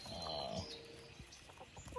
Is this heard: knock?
no